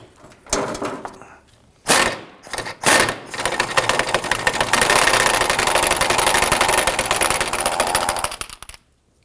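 A 17mm box end wrench loosens a bolt on the rear lower rearward control arm of a 2008-2011 Ford Focus, with a few sharp ratcheting bursts and then a long, loud grinding rasp up close.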